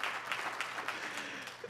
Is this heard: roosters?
no